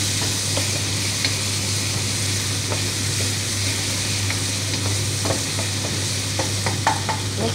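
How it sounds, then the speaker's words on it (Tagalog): Chicken pieces sizzle and fry with browned onion in a pan, with scraping stirs at irregular intervals over a constant hiss, close up and without talk. "Next, lagay natin ang chicken. Tapos, imimix natin siya ng imimix."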